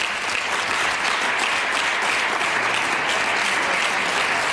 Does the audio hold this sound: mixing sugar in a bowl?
no